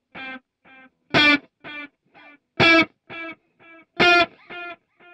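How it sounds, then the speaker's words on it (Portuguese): Electric guitar played through a Headrush MX5 analog delay modeled on a Deluxe Memory Man, with plucked notes answered by repeating echoes that darken and fade away in a steady rhythm. "E o legal do delay analógico é justamente essa deterioração, né, do som que você toca, ó, e ele vai sumindo"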